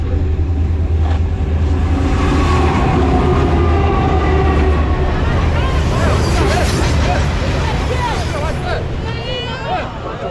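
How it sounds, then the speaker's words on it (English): A long iron ore train in Mauritania rumbles in at night, heavy low rolling and clanking wagons with squealing metal, loud and close, while a crowd chatters around it and people talk nearby. "the train has just arrived"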